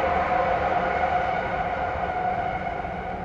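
Inside an Istanbul metro train on the move, a steady loud rumble fills the carriage with a sustained electric whine riding on top, continuous and unbroken with no one talking.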